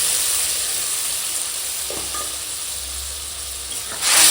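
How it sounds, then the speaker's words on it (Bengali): Marinated small fish going into a pan of sizzling tomato masala, a steady close hiss of frying that holds evenly and swells a little louder near the end. "এখন দিয়ে দেবো এই যে মেখে রাখা মাছ দিয়ে"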